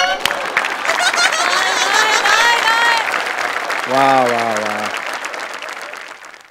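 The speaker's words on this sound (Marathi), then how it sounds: "वा, जोरदार टाळ्या." Studio audience at a Marathi comedy show breaks into sustained, loud applause as a second prize is announced on stage, with an excited voice calling out over the clapping before it fades.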